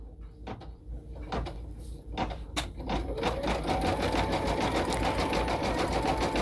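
An embroidery machine sews a satin stitch around appliqué fabric on a sweatshirt, starting with a few separate thumps, then settling into a fast, steady, close mechanical rattle of rapid needle strokes.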